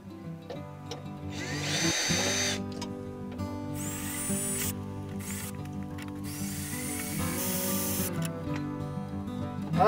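Power drill backing a bolt out inside a 2004 Chevy Silverado 1500 during a speaker swap, a close steady whine that runs in several bursts with short pauses, no speech.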